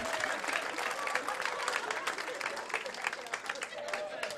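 A comedy show audience claps and cheers after a song, a dense sustained burst of applause from a sizeable crowd with scattered voices underneath, fairly far off and moderately quiet.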